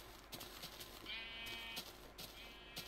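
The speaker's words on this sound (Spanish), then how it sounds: "Ovejas, muchas ovejas." Minecraft sheep bleating repeatedly in a blocky game world, several overlapping bleats at close range with short pauses between calls, no talking over them.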